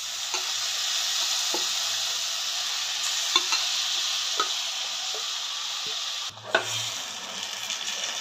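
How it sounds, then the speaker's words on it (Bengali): Marinated chicken sizzles in a pan with a steady, fairly loud hiss, broken by a few light utensil taps and a brief dip and burst as more pieces go in. "ম্যারিনেট করা চিকেনগুলোকে আমি এর মধ্যে দিয়ে দিচ্ছি।"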